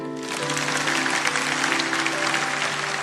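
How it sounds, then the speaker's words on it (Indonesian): A church congregation claps together in steady, dense applause that swells in quickly and holds loud throughout, with no talk over it. "Kasih tepuk tangan untuk Tuhan"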